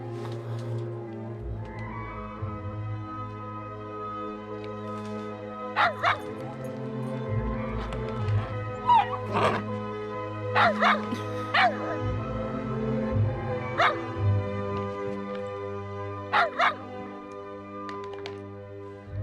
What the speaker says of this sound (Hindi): इसे देखकर क्यों भौंक रहे हो तुम?